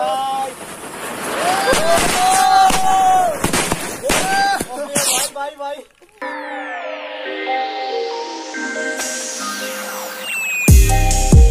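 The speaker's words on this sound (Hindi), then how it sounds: "यहाँ पर आपने देखा कितने सारे पटाखे तो यहाँ पर फूट चुके हैं ऑलरेडी" Diwali firecrackers and fireworks going off outdoors: loud, rapid pops and crackling bursts, then a rising whistle and fizzing spray from a firework, ending in a sharp bang, with excited shouting mixed in.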